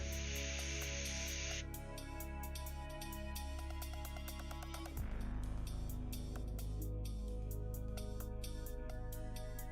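Paint is sprayed from an airbrush during hobby miniature painting: a short, faint hiss of spray early on, then low steady hum and background music, with no talking.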